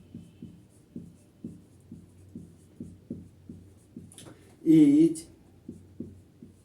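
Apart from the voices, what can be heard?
writing a chemistry definition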